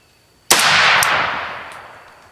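A single loud, sharp shot from a Century C39 V2 pistol fired at an outdoor range toward a target 110 yards away, with a sharp crack followed by a long echo that fades out slowly.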